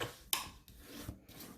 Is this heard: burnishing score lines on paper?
yes